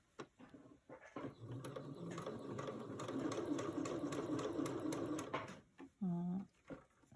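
A sewing machine quickly stitches pinned quilt pieces in one close, steady run lasting a few seconds, with soft handling clicks before it and a brief pitched sound and rustling after.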